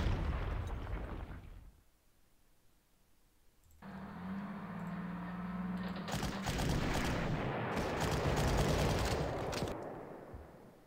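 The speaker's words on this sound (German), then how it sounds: "Und deswegen hauen wir hier erstmal mit der Artillerie drauf." Artillery fire in the wartime strategy game Panzer Corps starts as a rumbling barrage, drops to a near-silent lull, then swells into heavy rolling blasts and crackling bursts that fade toward the end.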